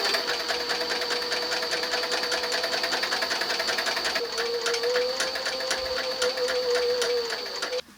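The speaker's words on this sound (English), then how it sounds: "So as I go up here, the machine will cut the leather." A sewing machine running at minimal stitch length to cut through leather for a decorative inlay, a fast, continuous mechanical chatter with a steady whine, close and loud, running without pause for several seconds before stopping.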